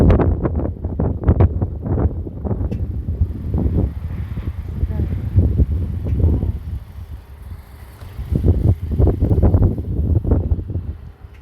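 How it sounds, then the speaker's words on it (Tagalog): A strong wind buffets the microphone outdoors with heavy, gusty low rumbling that rises and falls throughout. A person talks over the wind, and the gusts swell again strongly toward the end. "sobrang lakas ng hangin"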